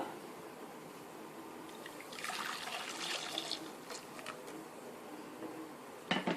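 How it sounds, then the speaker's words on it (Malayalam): Quiet coconut milk poured into a pot for a kingfish mango curry, a soft steady trickle and splash with a light clink of metal at the end. "ഈ 2-ാം പാൽ ആദ്യമായി ചട്ടിയിലേക്ക് ഒഴിക്കുക"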